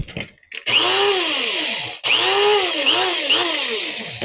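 White sesame seeds whirring in an electric grinder, a loud, steady high-pitched motor buzz that starts after a brief pause, cuts out for a moment near the middle, then resumes with pitch swoops as the load shifts.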